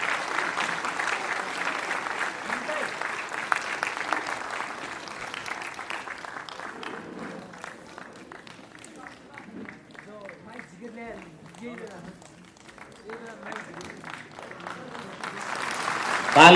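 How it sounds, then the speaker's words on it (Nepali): Sustained applause from a ceremony audience honouring Nepal's President Bidhya Devi Bhandari at a Christmas Day event, loud and dense at first, thinning into scattered claps midway, then swelling again at the end. "ताली"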